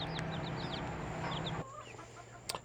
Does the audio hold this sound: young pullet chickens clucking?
yes